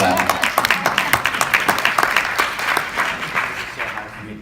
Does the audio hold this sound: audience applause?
yes